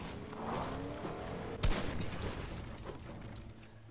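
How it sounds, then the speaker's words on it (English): A single sharp gunshot cracks out mid-clip in a video game, loud and sudden over a steady bed of game ambience and background noise, with no talk over it. "Why did you shoot?"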